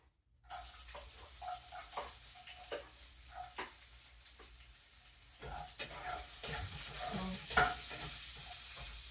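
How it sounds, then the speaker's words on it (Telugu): Onions fry in hot oil for an idly snack, a steady sizzle that starts abruptly and is broken by frequent scraping and stirring clatter, growing a little louder toward the end. "సో ఆయిల్ హీట్గానే ఉంది కాబట్టి త్వరగానే వేగేసాయి"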